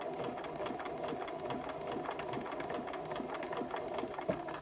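A sewing machine runs steadily through a zig zag stitch on fabric, a close, even mechanical whir with a fast regular needle rhythm throughout and no talking.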